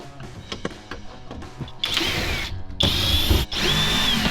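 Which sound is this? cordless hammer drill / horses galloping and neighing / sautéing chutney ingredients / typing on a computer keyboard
cordless hammer drill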